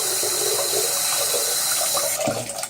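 Tap water runs steadily into a sink as a trombone cap is rinsed off, a close, continuous splashing stream with slight changes as the part moves under it.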